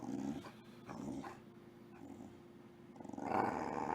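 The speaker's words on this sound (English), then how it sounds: "No, don't growl with your teeth against me like that." A dog growls low and rumbling at close range, in several drawn-out bursts with brief pauses, rising into a louder growl near the end.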